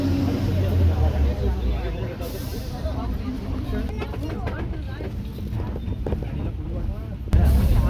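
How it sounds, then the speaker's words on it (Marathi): A crowded bus or similar vehicle setting off and driving on a road in Konkan, a steady low engine rumble with road noise throughout, heard from a rear window seat, with a voice speaking over it. "सुटली गाडी"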